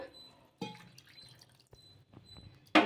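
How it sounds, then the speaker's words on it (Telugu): Water is poured into flour in a bowl to make rumali paratha dough, with a few short, separate splashes and drips in a quiet kitchen. "ఒకటిన్నర కప్పులకి రెండు కప్పుల నీళ్ళు వేసుకుంటున్నాను"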